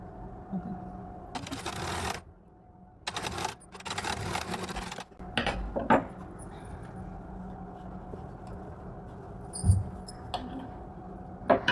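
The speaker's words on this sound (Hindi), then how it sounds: "एक बार और मोड़ने के बाद से इसके ऊपर एक सिलाई लगा देंगे।" A sewing machine stitches a folded blouse hem in short bursts of whirring, broken by pauses and small clicks of fabric handling, fairly quiet and close.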